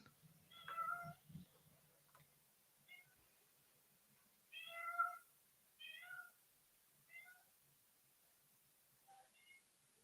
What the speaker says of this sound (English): I think your cat's either dying or in heat